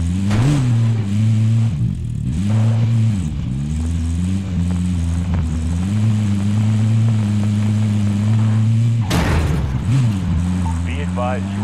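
Vehicle engine in Call of Duty Warzone, a steady loud mid-pitched drone that rises and dips as it drives, with a brief burst of noise near the end and game radio chatter over it.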